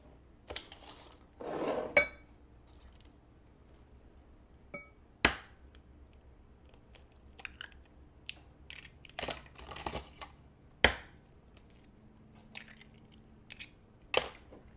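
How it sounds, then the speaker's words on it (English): Two eggs cracked into a bowl while making strawberry cheesecake bars, a few sharp isolated taps and clinks spread out over a quiet kitchen background with no talking. "Two eggs are going in the bowl."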